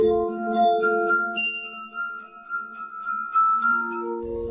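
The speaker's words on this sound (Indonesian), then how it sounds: "Jika digesek dengan jari, gelas berisi cairan-cairan ini akan menghasilkan nada-nada yang berbeda." Glass harp tones from glasses holding different amounts of liquid, rubbed by fingers: sustained, pure ringing pitches that overlap and shift between notes, steady and fairly loud with no talking.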